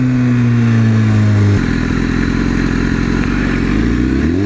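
A sport motorcycle, either a CBR or a Ninja, comes past fast and close, its high engine note dropping sharply as it goes by, then a rough broadband roar and wind continue behind.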